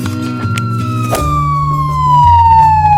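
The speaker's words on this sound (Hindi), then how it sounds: "एम्बुलेंस!" A loud emergency siren from an ambulance wails nearby, a clear tone sliding slowly downward over a low steady vehicle rumble.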